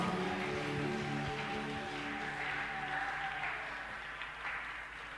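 A church congregation claps at length during a French-language worship service, a dense, steady wash of applause that holds loud throughout, with faint musical tones underneath.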